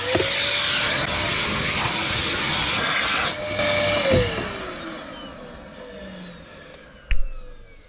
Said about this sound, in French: On va repasser l'aspirateur.